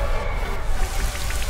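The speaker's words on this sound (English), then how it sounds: "Let it rain!" Steady rainfall in the Pokemon Sword video game, a continuous broadband hiss of falling water with a faint patter of drops, alone and fairly loud throughout.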